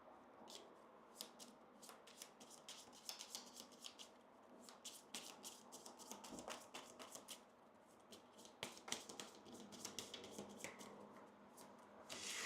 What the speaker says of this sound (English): So we have to shuffle our discard because we've run out of cards.